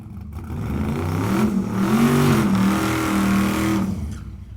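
Drag cars revving and accelerating during a Drag Week session, a loud mid-pitched engine roar that swells and holds steady for several seconds before easing slightly.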